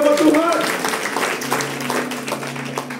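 Congregation clapping during an Easter church service: a short burst of steady applause from many hands, with a sustained tone and some voices underneath.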